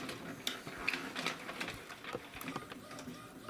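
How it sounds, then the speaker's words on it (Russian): An Epson WF-2630 inkjet printer starting to print, a rapid series of mechanical clicks, ticks and whirring motor movements, close and fairly quiet, with no talk over it. "мы просто нажимаем стрелочку вверх, и наш принтер начинает"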